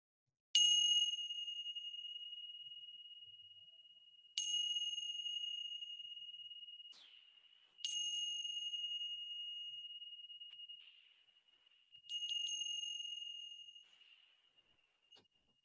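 Meditation bells sound alone in a quiet online mindfulness session: four clear metallic strikes spaced a few seconds apart, each ringing with a long, slowly fading tone.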